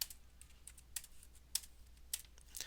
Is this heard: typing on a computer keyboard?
yes